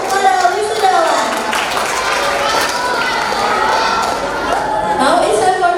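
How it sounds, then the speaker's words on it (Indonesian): Applause for graduating sixth-grade students at a primary school ceremony: steady, loud clapping from a crowd filling the hall, mixed with children's chatter and voices throughout. "Mohon memberikan tepuk tangan yang meriah untuk para wisudawan."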